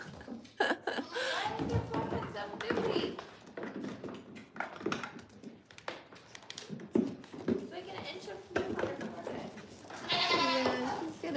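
Baby goats bleat repeatedly during lively play, their high wavering calls overlapping with people talking and chuckling nearby throughout.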